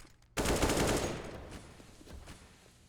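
Counter-Strike gunfire on the Mirage map during a pro match, a sudden loud burst of rapid shots starting after a brief quiet, then dwindling into scattered fainter shots and echoes.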